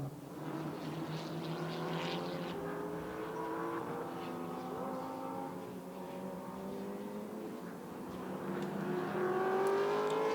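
GT4 race cars at the Nürburgring in the GT4 Central European Cup, a blend of engines droning and shifting pitch as several cars pass, swelling louder toward the end, no talk.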